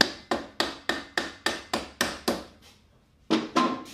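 A Honda Goldwing front fork axle is tapped out with about ten sharp, evenly spaced hammer taps, then a short pause and two more blows, loud and close.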